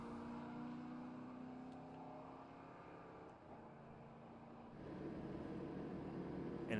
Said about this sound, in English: That is Kyle August in a 1966 Ford Mustang